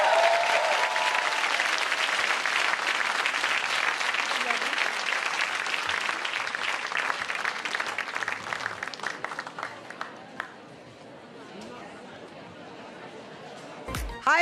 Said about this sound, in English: a wonderful, loud round of applause for all our wonderful speakers